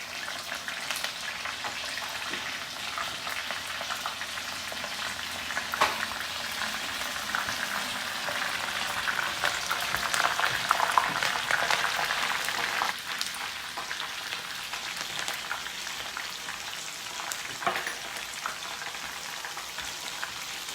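Onions frying in a pan on a home stove give a constant, even sizzle and bubbling hiss for the full stretch, close and unbroken with no voices.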